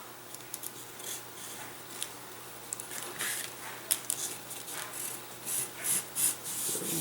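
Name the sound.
sanding foam for a chuck glider build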